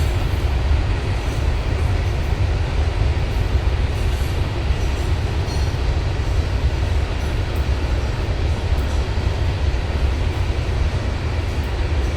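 A train rolls past in a village setting, a steady, loud rumble of wheels and carriages on the rails that holds continuously throughout with no voices over it.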